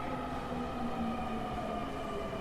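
A train sound effect in a scary story, a continuous low rumbling drone with a steady mechanical hum and faint tonal whine, alone and unchanging.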